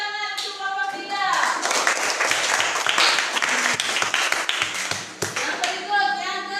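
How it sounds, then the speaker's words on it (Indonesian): Classroom students clapping for a group after a science lesson answer, a lively burst of many hands that swells and holds, with a teacher's voice briefly over the start and end. "tepuk tangan untuk kelompok 3"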